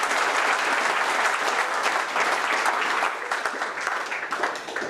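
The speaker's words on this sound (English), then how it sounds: "A round of applause for our last speaker." Steady applause from the audience at a Lean Startup Melbourne lightning-talk event, dense and sustained for the whole stretch, thinning only slightly toward the end.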